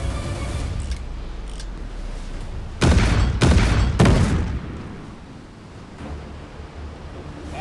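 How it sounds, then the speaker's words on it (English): A missile launch from a silo in the naval combat game Warship Mobile 2 bursts out as three loud, broad roaring blasts in quick succession over a steady low rumble of ship ambience. "Missile silo ready for launch, receiving coordinates."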